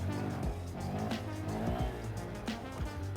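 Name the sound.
Honda Grom motorcycle engine revving during a first-gear wheelie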